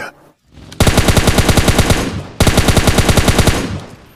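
Rapid automatic gunfire from the mobile shooter PUBG Mobile Lite, two loud, close bursts of evenly spaced shots, the second starting after a brief break, with no talking.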